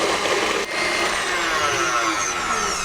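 An electric mixer beats passionfruit ice cream mixture in a bowl, a loud, steady whirring drone that runs without a break and dips only once for an instant.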